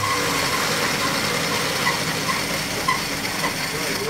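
A straight-six engine fitted with an Autolite 1100 carburetor that floods with fuel runs steadily near the listener, a continuous low rumble with slight fluctuations and no clear revving, with no voices present.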